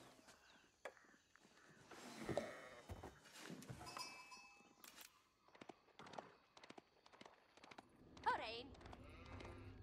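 Sheep from a pasture in Age of Empires IV bleat in a few short calls, around the two- and eight-second marks, over game ambience and steady talking.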